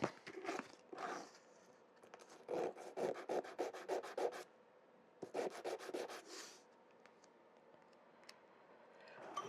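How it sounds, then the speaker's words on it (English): Sandpaper rubs against brittle wood on a workbench in quick rhythmic back-and-forth strokes, clustered in two bursts of rapid scratching with short gaps, close and fairly crisp. "Give that a bit of tidy up with some sandpaper."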